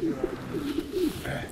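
Racing pigeons coo softly in a loft in a low, repeated warble, a steady murmur close by with no talking.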